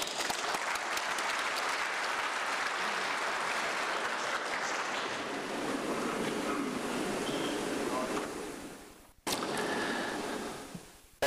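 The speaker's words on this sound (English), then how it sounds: "Please welcome him with our warm applause." Warm conference applause welcomes a speaker at an aviation event, a broad steady wash of many hands that thins out and fades toward the end before a brief sharp break and a last faint scatter.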